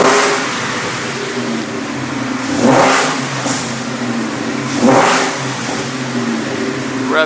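Ford Mustang with a swapped Coyote 5.0 V8 and Gen3 10R80 transmission idles steadily, then revs up sharply twice in two loud, close bursts before settling back to idle, with no one talking.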